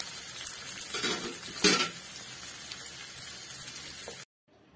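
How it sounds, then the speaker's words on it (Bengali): Onions sizzling in hot oil in a pan for a spicy chicken curry, a steady bright hiss with a short burst of stirring scrapes near the start before the sound cuts off. "পেঁয়াজটা একটু ভালো ভাজা হবে, একটু গোল্ডেন ব্রাউন হবে, ততক্ষণ আমরা একটু নাড়াচাড়া করব।"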